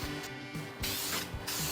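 An aerosol can sprays candy red paint onto a car, delivering two short hissing bursts, close and steady, with no voices.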